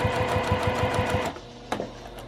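A sewing machine runs close up, stitching a quilt-as-you-go mug rug, its needle thumping in a quick even rhythm for over a second before slowing and stopping with a faint click.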